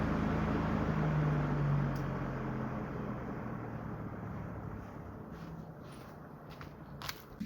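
A lawn mower converted to electric drive, with a silent motor, spins its blade and churns air inside the deck while mowing, giving a broad, wind-like rushing rumble that gradually eases and is joined by a few light knocks near the end.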